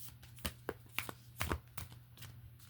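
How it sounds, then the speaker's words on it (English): Tarot cards being shuffled by hand, a run of quick crisp riffling bursts and soft slaps, close and fairly quiet over a low steady hum. "we're going to do one more shuffle"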